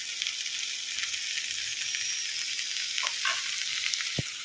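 Two small onions added to a hot pan, giving a loud, even sizzle of frying right up close with a brief clink near the end, no voices.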